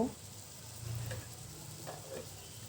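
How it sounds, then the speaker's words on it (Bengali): Onions frying in a pan for chicken biriyani, a steady soft sizzle with occasional stirring scrapes, close and moderately quiet. "এই পেঁয়াজটা কিন্তু আমি বেরেস্তা করছি না, শুধু একটু লাল হয়ে আসা পর্যন্ত নাড়াচাড়া করব"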